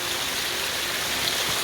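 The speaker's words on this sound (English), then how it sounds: "So I really like this side waterfall." A small side waterfall on the Caboolture River in Queensland, a steady broadband rush of falling water, close and continuous with no voices.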